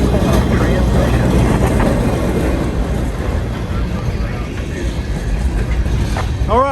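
A train pulling a caboose rolls past in falling snow, with a loud, continuous rumble and wheel clatter close by. The noise holds steady across the whole passage.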